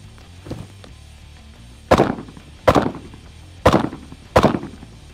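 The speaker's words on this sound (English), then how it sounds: "I'm gonna fire a stationary pair on each target" Marine carbine fired in stationary pairs at targets from 15 yards on a range: four sharp, loud reports in two quick pairs, each with a short decaying tail, after a faint earlier knock.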